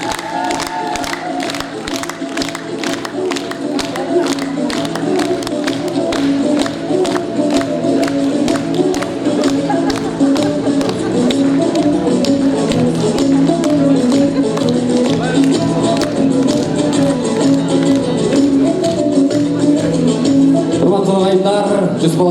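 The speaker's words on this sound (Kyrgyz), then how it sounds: "өзгөчө маана менен кол чаап туралы" An audience at a festive International Women's Day ceremony at the Seytek centre applauds loudly and steadily, with a rhythmic clapping pulse running through a dense crowd wash.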